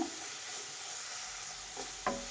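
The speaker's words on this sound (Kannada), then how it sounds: "ಕೈ ಆಡಿಸ್ತಾನೆ ಇರಬೇಕು, ಇಲ್ಲಪ್ಪ ಅಂದರೆ ತಳ ಹಿಡಿದ್ಬಿಡುತ್ತೆ." Capsicum and peas frying in a pan on medium flame, a steady soft sizzle with two brief scrape-like stirring knocks near the end, no talking.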